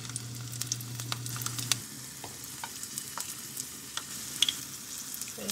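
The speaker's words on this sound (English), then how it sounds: "Here I have the oil on the fire to start frying the fish." Hot oil heating on the fire for Creole fish, with garlic going into the pan, sizzles softly and steadily, broken by a few light clinks and stirring sounds.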